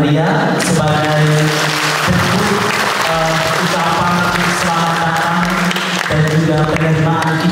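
A seated audience at a Catholic teacher-training public lecture gives a guest warm applause, dense and sustained with no pauses, mixed under music and some talk.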